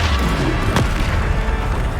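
A Descendo spell slams down in Hogwarts Legacy, a single deep boom with a sharp crack in the middle of a low, continuous battle rumble.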